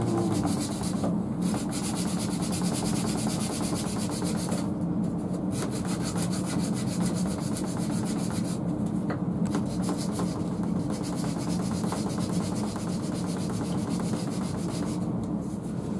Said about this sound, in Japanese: それもヤスリです。